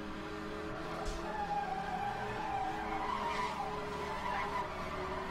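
Race cars in a multiplayer racing video game, including a green Porsche, skid and squeal through a corner while engines drone steadily underneath, the tire noise swelling in a few bursts over five seconds at an even, fairly loud level.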